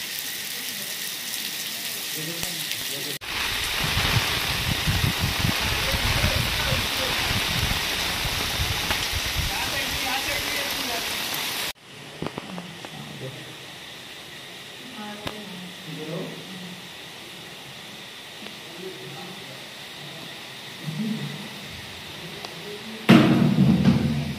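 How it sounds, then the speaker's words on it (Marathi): Heavy rain pours down on a village during Janmashtami preparations for breaking the Dahi Handi pot, a dense steady roar that drops to a softer patter midway, with faint voices in the background. "पाऊस आज खूप आहे"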